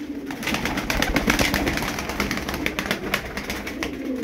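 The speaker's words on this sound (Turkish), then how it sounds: "Bakın bu da oyunlu, benim uçurduğum kuşlardan, yavrulardan." Tumbler pigeons of the Cincik play-bird type coo close by in soft repeated calls, with a few faint wing flaps among them and no voices.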